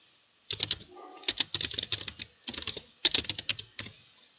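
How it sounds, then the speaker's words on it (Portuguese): Typing on a computer keyboard while entering text in Illustrator: quick runs of close, crisp key clicks in irregular bursts with short pauses, heard alone without talk. "Vamos digitar ali."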